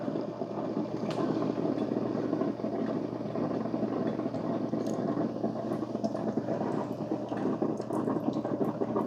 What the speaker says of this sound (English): You can hear the water boiling